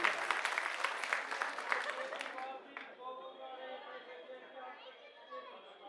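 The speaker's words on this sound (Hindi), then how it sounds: "इनके लिए ताली बजाओ" A crowd at an Aam Aadmi Party political rally in Mundka, Delhi claps loudly for a couple of seconds, the applause tapering off into crowd chatter and children's voices with scattered claps.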